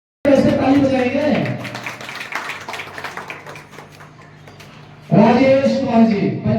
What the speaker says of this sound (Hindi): अगले क्रम में ऐसे ताली बजाएंगे।